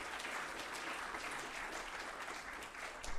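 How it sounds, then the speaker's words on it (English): Applause from a conference audience after a talk at a Bitcoin scaling event, a steady dense wash of clapping that holds for about three seconds, with no talk over it. "Give a round of applause there."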